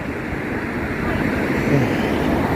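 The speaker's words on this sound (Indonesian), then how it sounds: "nyebrangnya juga tuh lihat ya, mobilnya ini kenceng-kenceng." Fast cars speeding along a road in Makkah, a steady roar of traffic with a louder passing swell near the middle, close and continuous throughout.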